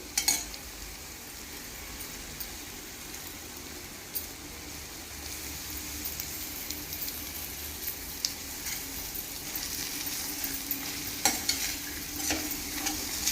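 Sliced bitter gourd and onion frying in a pan as curry leaves go in, a steady soft sizzle throughout with faint stirring scrapes and a few brief crackles toward the end.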